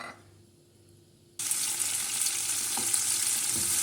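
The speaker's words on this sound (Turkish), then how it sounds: "Kızarmakta olan biberlerimizi ara ara karıştıralım." After a quiet start, a loud, steady sizzle abruptly begins as chopped red peppers hit hot oil and keep frying with a constant crackling hiss.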